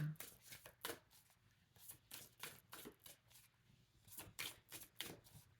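A deck of cards is shuffled up close in rapid repeated riffles, quiet but crisp bursts of flicking paper in a steady rhythm with no voices over them.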